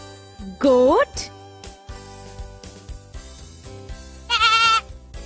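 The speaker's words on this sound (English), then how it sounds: "Goat." A goat bleats twice, close and loud. The first bleat is a wavering cry and the second comes about three seconds later. Quieter background sounds fill the gap between them.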